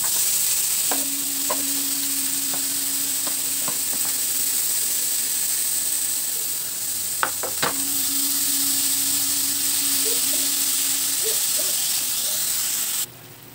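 Pork sizzling loudly and steadily in a hot pan, with scattered clicks and scraping knocks over a continuous hiss until it stops abruptly at the end.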